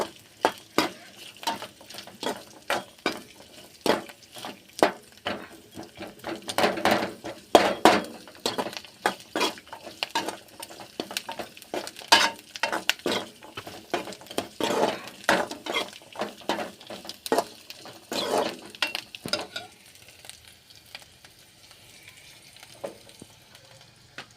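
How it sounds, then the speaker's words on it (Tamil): Moringa leaves are sautéed in oil in a pan, with frequent clinking and scraping stirs over a soft sizzle. The stirring is irregular and close, then quiets to a light hiss for the last few seconds. "இன்றைக்கி கொஞ்சம் லைட்டாக எண்ணெயில் வணக்கி செஞ்சு பார்க்கலாமே டிஃப்ரெண்ட்டாக அப்படின்ட்டு எண்ணெயில் போட்டிருக்கேன்"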